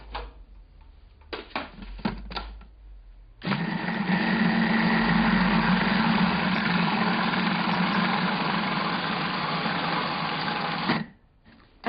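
A food processor blitzes cupcake batter with vanilla and baking soda, its motor whirring steadily and loudly for several seconds after a few short clicks of the lid being fitted.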